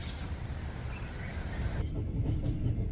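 A steady, loud train rumble with a rhythmic low clatter, heard from inside a train bound for Haifa, Israel; the brighter upper hiss drops away partway through while the deep rumble continues.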